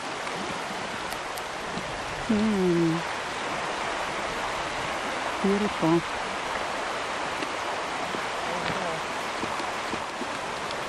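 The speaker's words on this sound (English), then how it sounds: "what I could hear is mostly the sound of the river" A glacial river near Patagonia's Águila glacier rushes steadily in a constant broad hiss close by, and a voice briefly speaks over the flowing water.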